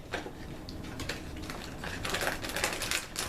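Crackly, close-up crinkling of a plastic bag of pink candy popcorn, with bursts of rustle that grow denser and louder toward the end, no voices.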